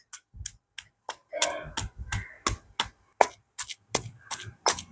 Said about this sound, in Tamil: இப்போ வந்து இதை வடிவாக நாங்கள் இடிச்சு எடுப்போம்.